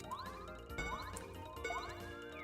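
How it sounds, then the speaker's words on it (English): A Kirby-themed notification chime plays a short run of bright, tinkling ding tones that repeat in quick rising phrases, moderately quiet, with no one speaking. "Yep, that's my new notification sound."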